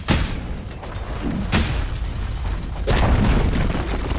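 A tower is destroyed in a Dota 2 grand final match between MVP and Fnatic, with loud booming crashes and heavy rumbling impacts in several close bursts over a dense low roar.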